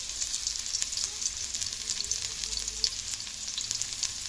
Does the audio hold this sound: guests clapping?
no